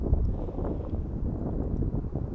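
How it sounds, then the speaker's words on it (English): Strong wind buffeting the microphone outdoors during a Tello drone range and altitude test flight, a dense, continuous low rumble with steady loudness for the whole stretch and no talking. "My biggest concern here is it's super windy."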